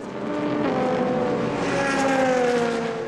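Endurance race cars at Le Castellet, a loud onboard engine drone rising and falling in pitch as the car accelerates and shifts, with other cars faintly nearby.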